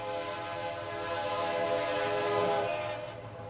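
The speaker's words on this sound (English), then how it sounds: "I've been listening to that train all week" A train passes near a fishing spot with its horn sounding, a long, steady, loud multi-tone blast held over continuous rumbling rail noise for several seconds, easing slightly at the end.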